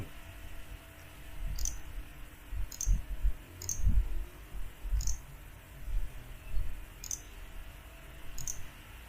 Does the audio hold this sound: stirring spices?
no